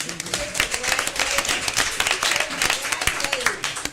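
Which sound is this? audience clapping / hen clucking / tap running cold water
audience clapping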